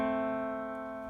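A low left-hand piano dyad from a theme sustains steadily, a single held chord slowly fading with no new strikes.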